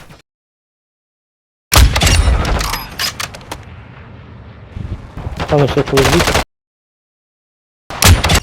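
Bursts of rapid gunfire from Call of Duty, loud and close, in two stretches separated by silence.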